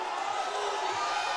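A strongman competition crowd at a middleweight final cheers and calls out encouragement to a lifter, a steady, fairly distant wash of voices and whoops with a commentator talking over it.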